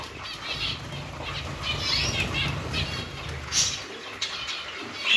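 Canaries in an aviary flutter their wings in soft, rapid bursts, with scattered high chirps and tweets over a low indoor hum, near and moderately quiet.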